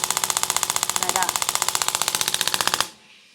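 Handheld massage device with a small nozzle popping rapidly up and down, giving a loud, fast, even mechanical rattle of repeated taps close by, running steadily for nearly three seconds before switching off abruptly.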